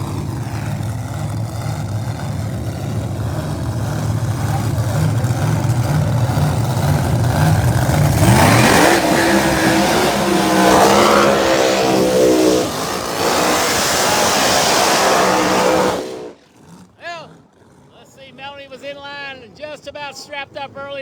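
A supercharged Pro Mod drag car, a Noonan-powered ProCharger entry at an Empire Dragway outlaw qualifying round, roars loudly as it accelerates, its engine note rising sharply mid-run under a commentator's voice, then cuts off to quieter sounds.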